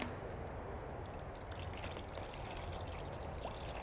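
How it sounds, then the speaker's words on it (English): A cup of milk pours steadily into a bowl, a continuous close splashing gurgle that lasts the whole time. "I'm gonna pour that in"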